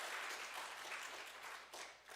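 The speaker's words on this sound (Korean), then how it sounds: "이럴 때는 박수 한번 보내주십시오" A church congregation applauding together: soft, steady clapping that stays faint and distant throughout, without a break.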